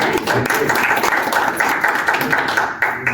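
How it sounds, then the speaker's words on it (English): An audience claps at the Electrify the Hutt 2025 presentation event. The applause is a dense, steady patter lasting about three seconds, close and fairly loud, with no talk over it. "So we'll give a quick round of applause"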